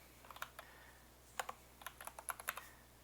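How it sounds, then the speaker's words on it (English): Someone types a username on a computer keyboard in a quiet room, producing soft, close key clicks. They come in short irregular bursts with small pauses between them. "we can type in our username"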